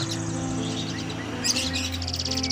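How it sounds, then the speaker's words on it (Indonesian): Javan pied myna (jalak suren) sings at a bird market with varied bright chirps and whistles, growing livelier midway, over a steady low hum. "Burung ini memiliki suara bervariasi sehingga banyak kicauannya yang terpikat untuk memeliharanya."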